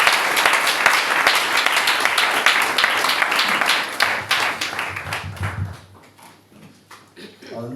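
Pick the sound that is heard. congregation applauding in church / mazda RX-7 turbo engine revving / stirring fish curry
congregation applauding in church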